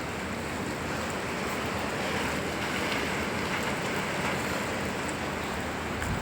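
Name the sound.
rain falling in Qatar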